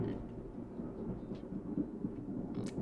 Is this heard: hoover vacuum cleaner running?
no